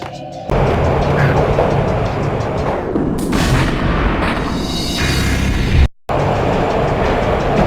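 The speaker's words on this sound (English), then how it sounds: "This was my second train ride of the night" Train ride in the 2001 game Max Payne: heavy continuous rumble and clatter of rail cars with booming thuds, loud throughout, briefly cutting to silence near the end before the roar resumes.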